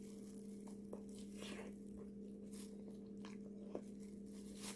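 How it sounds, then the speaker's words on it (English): A potato is bitten and chewed at a seafood mukbang, soft close mouth sounds and occasional small squishes over a steady electrical hum, without speech. "let me taste this potato"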